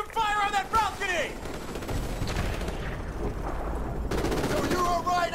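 Sustained automatic gunfire and explosive bursts from a Call of Duty: Modern Warfare battle, loud and dense throughout, with shouted voices breaking through at the start and end.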